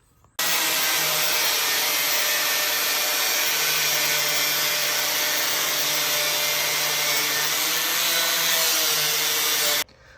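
A power tool cuts into the steel frame of a 1951 Ford F1 truck, a loud, steady, harsh roar that starts abruptly, holds for about nine seconds and then stops. Close and continuous, with no talking.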